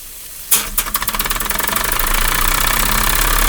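A small steam engine starts up with a sharp onset, then settles into a fast, steady mechanical chuffing and knocking that grows louder and more even, close and loud, with no voices.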